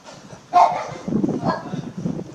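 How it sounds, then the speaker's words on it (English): A small dog gives a single sharp bark close by in a backyard in Greenock, Scotland, followed by softer mixed noise and faint background activity. "There's a wee doggy here"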